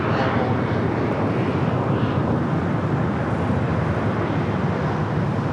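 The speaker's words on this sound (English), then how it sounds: "This is Alaska Airlines in the Mortal Love livery with the white nose. Flight 1308 coming from SFO on this A321neo." Alaska Airlines Airbus A321neo jet airliner arriving from SFO at LAX, a steady broadband engine roar with wind buffeting the microphone, continuous and fairly loud throughout.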